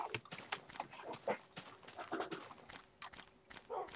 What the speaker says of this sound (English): Can I kill your dog?